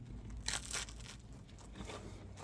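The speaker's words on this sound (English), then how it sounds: "I like the crunch in that pizza dough too." Crunchy oxtail pizza crust being bitten and chewed close up, with a few quick crackling crunches early on, then softer chewing noises that continue quietly.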